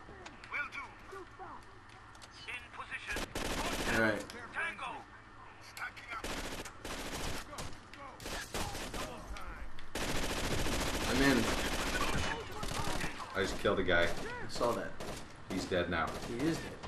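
Rapid automatic gunfire and single shots crackle in bursts during a Rainbow Six Vegas 2 match, loud and dense in stretches, with players talking over the shooting.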